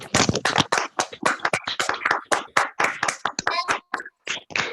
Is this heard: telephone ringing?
no